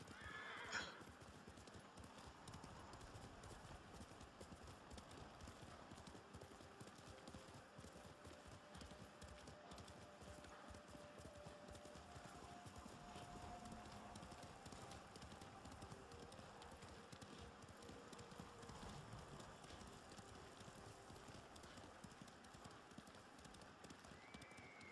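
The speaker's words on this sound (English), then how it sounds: "Ooh, horsey." Horse hooves clip-clop steadily in Ghost of Tsushima, the game horse's whinny rising near the start, continuing at an even trotting rhythm throughout over faint game ambience.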